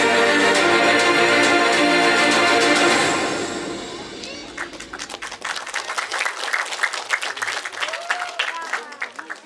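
Loud music at an indoor stage event gives way to audience applause, dense clapping that thins into scattered claps over several seconds.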